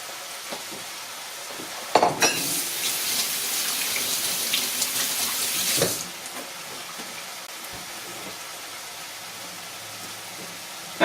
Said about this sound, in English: We'll get our garlic in with the onions there.